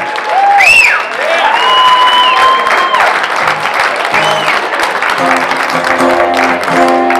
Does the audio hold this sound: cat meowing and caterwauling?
no